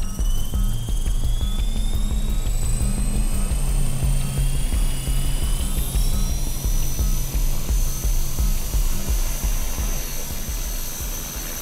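A small electric EXI 450 Pro RC helicopter hovers close by, its rotor and motor whining steadily and loudly, with high tones gliding slowly upward throughout.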